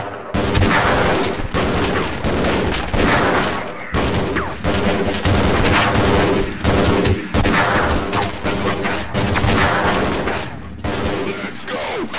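Dense, loud bursts of gunfire from a weapon in the video game Half-Life: Blue Shift, with rapid shots and booming impacts filling the whole stretch nearly without pause.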